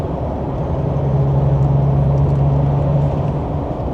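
A JAC T9 ute with an 8-speed automatic gearbox drives along, giving a steady, loud, close engine and road rumble with a sustained low drone throughout.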